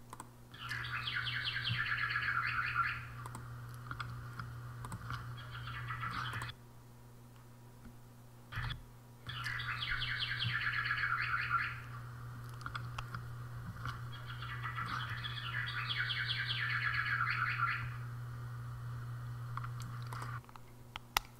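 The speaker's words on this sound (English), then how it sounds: "We have a bird clock" A bird clock plays recorded birdsong in three separate bursts of rapid chirping and warbling, each a few seconds long with short pauses between, over a steady low electrical hum and faint ticking indoors.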